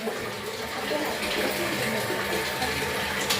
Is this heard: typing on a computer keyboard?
no